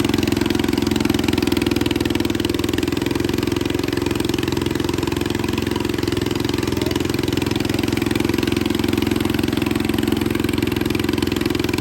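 A pulling tractor's engine runs at a steady, loud, close drone for about twelve seconds, a dense continuous rumble with no pauses and no talk over it.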